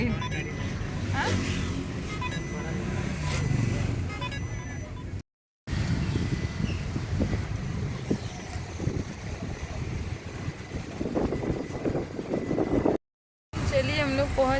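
Inside a cab riding through city streets, a steady engine and road rumble fills the cabin while people talk over it, with two brief dropouts in the sound.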